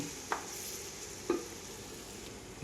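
Masala for biryani being stirred and sautéed in a pan, a faint steady sizzle broken by a few brief spoon scrapes, with no voices.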